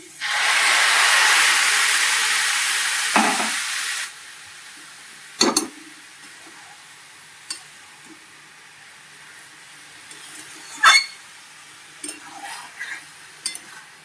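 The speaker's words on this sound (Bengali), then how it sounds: "এই জলটা দিচ্ছি, অ্যাড করছি।" Water poured into a hot pan while cooking Bengali basanti pulao bursts into a loud hiss of steam that fades after a few seconds, followed by scattered clinks of utensils against the pan.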